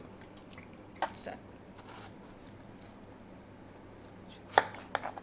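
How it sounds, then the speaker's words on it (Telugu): Raw mangoes being cut into pieces by hand, heard as a few sparse, sharp chopping clicks, one louder cut near the end, over a quiet room background. "ఇలా ఒక్కొక్క మామిడికాయను ఇలా కట్ చేసుకోవాలి ముక్కలు ముక్కలుగా కట్ చేసుకోవాలి"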